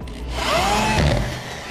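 A power drill drives screws into a wall through plastic anchors to mount a BMX bike rack, a brief rising motor whir with grinding contact that swells then fades.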